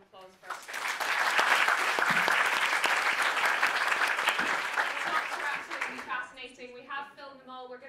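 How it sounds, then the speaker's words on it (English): An audience at a panel discussion applauds its speakers, a loud, dense burst of clapping that swells quickly, holds for several seconds, then tapers off as a voice begins speaking. "So if we could just give them a big round of applause first."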